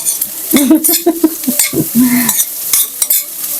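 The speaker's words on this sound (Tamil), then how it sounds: "இந்த இருக்கிற எண்ணெயிலே டீப் ஃப்ரை பண்ண போகிறேன்" Ivy gourd (kovakkai) deep frying in oil sizzles loudly and close, with repeated clattering stirring strokes throughout.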